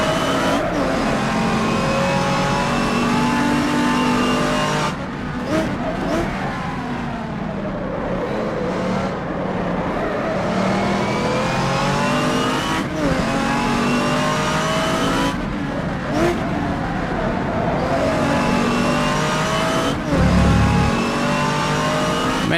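A race car engine in a racing video game at Brands Hatch, 1986 GT revival round, revving hard and continuously with repeated brief gear-change dips, loud and close, with no speech over it.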